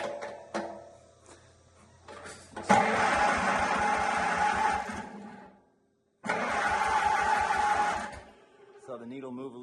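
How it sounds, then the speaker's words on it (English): A 1951 Farmall M tractor engine is cranked over with the ignition off to build oil pressure. The starter churns in two rhythmic bursts separated by a short silence, with brief talk before and after. "with the ignition off, let me cycle it over and get some oil pressure"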